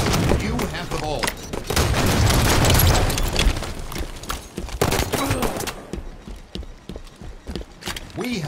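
Rapid bursts of gunfire in a Halo match, loud and dense in the first half, then thinning into scattered shots under game announcer voices and in-game chatter.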